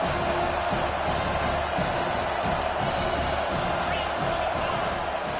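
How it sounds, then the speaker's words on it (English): A home crowd at a college football game, Vanderbilt against Knoxville, roars loudly and continuously, a dense wash of cheering and yelling that never lets up. "how nice is it to have the home crowd going absolutely bananas?"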